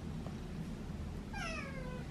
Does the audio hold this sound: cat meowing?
yes